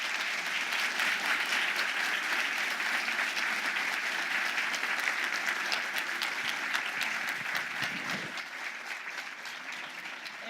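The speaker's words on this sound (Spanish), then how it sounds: "Un aplauso." Audience applause filling the hall after a Spanish-language astronomy talk, steady dense clapping throughout, easing slightly toward the end.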